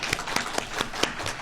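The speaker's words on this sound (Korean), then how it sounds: "오늘도 귀한 말씀을 전해주신 우리 임창현 목사님께 우리 박수 한번 쳐주시기 바랍니다" A church congregation claps for its pastor after a Sunday worship sermon, a sparse, fairly quiet run of separate hand claps at an irregular rhythm with no voices over it.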